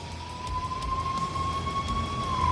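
Steady wailing police siren from a video game, holding a sustained high tone over a low rumbling background, fairly loud and continuous with no speech.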